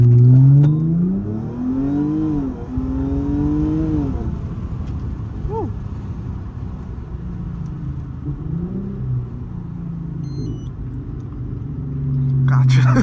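A 2012 Audi A7 launching hard on a night city street, engine note sweeping up through rising revs with pauses between pulls, then settling into a steady rumble with a surge at the end, heard from inside the cabin.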